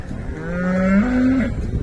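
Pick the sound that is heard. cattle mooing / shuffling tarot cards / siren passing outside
cattle mooing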